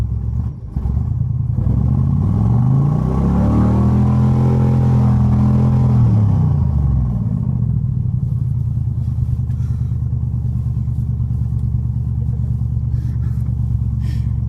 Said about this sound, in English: The engine sounds nice though.